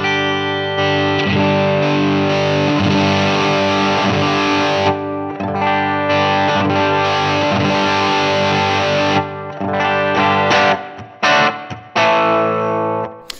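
Distorted electric guitar played through a Line 6 Helix amp modeler on a Derailed Ingrid (Trainwreck Express) patch, with sustained loud chords and riffs that break into choppy stabs near the end.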